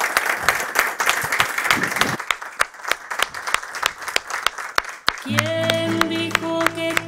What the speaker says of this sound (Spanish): fuerte aplauso que seguro que recoge pues también el de los oyentes